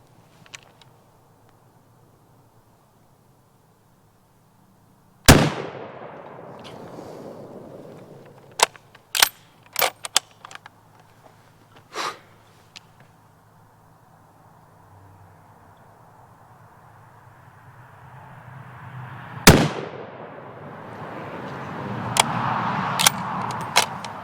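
Firearms fire at an outdoor shooting range: a handful of sharp, loud single reports spaced irregularly, with a couple of smaller clicks and handling noises between shots and a rising background rumble near the end.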